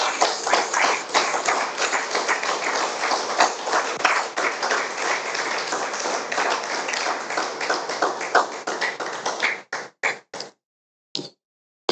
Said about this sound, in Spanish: ¿Alguien puede darle palmas al Señor?